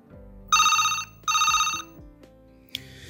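An office PABX intercom telephone rings in two long electronic bursts, clear and close, followed by a short click and a brief tone.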